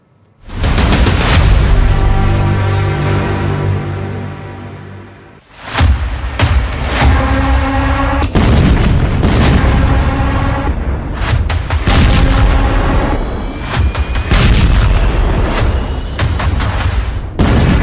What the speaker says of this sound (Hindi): फिर बम फटने लगे हैं